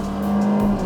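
Kia K3 compact sedan accelerating hard in Sport mode at about 3,100 metres altitude, a steady, loud engine drone with a rising tone filling the whole moment, no talk over it.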